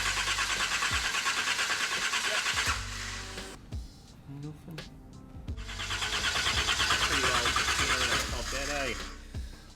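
A big-block twin-turbo engine in a van cranks with a stuttering starter rhythm, catches briefly, cranks again and fires into a rough idle, while people talk nearby.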